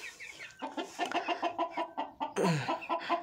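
Chickens cluck in a rapid, close run of short calls while being fed grain, water and cabbage, with one louder squawk near the end.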